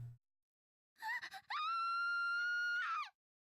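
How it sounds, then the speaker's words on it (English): A girl's scream from the Steins;Gate 0 video game: a short broken cry, then a loud sustained high-pitched scream of about a second and a half that falls off at the end, with no talk. "At Mayuri's scream, she turned around just in time to see armed agents in camouflage jumping over the fence."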